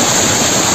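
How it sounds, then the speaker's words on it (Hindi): Raging flooded Kanda nala stream in Sirmaur, swollen by heavy rain and strong enough to trap a truck, roars as a loud, dense, continuous rush of water with no pauses. "कंडा नाला ने अपना रौद्र रूप दिखाया"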